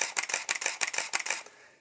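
Canon 5D Mark II DSLR shutter firing in burst mode, a rapid run of about a dozen crisp mechanical clicks at a steady pace of roughly four per second, close and isolated, stopping abruptly.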